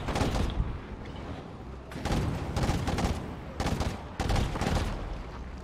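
Gunshots in the Heartland video game ring out as loud, rapid bursts of fire separated by short pauses, close and dense, with four or five distinct volleys.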